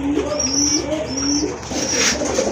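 Pigeons cooing, including a Milli-coloured Rajgolla pair, at a pigeon sale: repeated soft rising coos in a steady rhythm, close and clear, with a brief higher chirp near the end and no talk.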